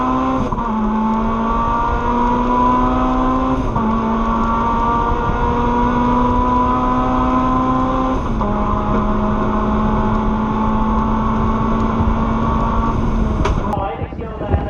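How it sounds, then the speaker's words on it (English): Racing cars on a circuit, front-wheel drive cars in a race, with a loud sustained engine drone rising through gears and shifting pitch for the whole stretch, under commentary. "Rob Boston's driving away now from the front-wheel drive cars."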